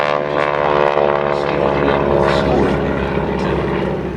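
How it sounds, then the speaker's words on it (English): World War II propeller warplanes with big Pratt & Whitney and Curtiss radial engines pass at an airshow runway, a loud, steady, throbbing drone holding for several seconds before easing slightly. "you'll hear the rumble of the mighty engines of yesterday's big"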